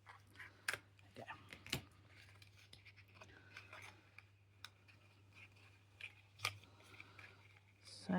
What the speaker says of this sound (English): I'm going to use my scissors instead, because I don't want to damage this.